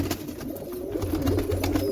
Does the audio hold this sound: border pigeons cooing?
yes